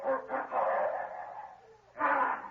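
Hounds barking in an old radio drama, a few quick woofs followed by a longer drawn-out bay, a pause, then another loud burst of barking, heard alone with no talk over it.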